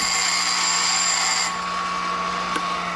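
A power grinder bites into a piece of stainless steel scrap for a spark test, a loud continuous high whine that steps down in pitch partway through, close up and alone.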